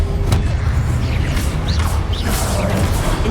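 A disarming spell cast in the video game Hogwarts Legacy: a dense magical burst with a booming low rumble, swishing sweeps and sparkling high glints, loud and continuous across the whole moment with no talk.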